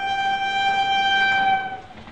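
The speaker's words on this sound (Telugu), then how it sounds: "ట్రైన్ ప్లాట్ఫామ్ మీదకి వచ్చేస్తున్నాడు" A train horn sounds with a sustained, loud, steady tone as the train pulls into a railway platform at a station, fading toward the end.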